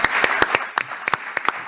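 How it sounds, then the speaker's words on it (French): A few distinct hand claps ring out at an uneven rhythm in a hall during a French civic event, sparse and close rather than a full crowd ovation. "Applaudissements pour Lionel Séropian"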